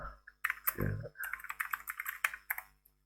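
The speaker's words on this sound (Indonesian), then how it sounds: "saya ketik ls" Keys clatter on a computer keyboard as commands are entered in a Linux terminal, with a quick run of close, crisp keystrokes after a brief low thump.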